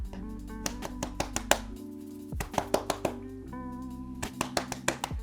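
Hands clap onto wet wavy, curly hair to scrunch it during a wash-day routine, giving sharp close claps in quick uneven bursts with short pauses over soft background music.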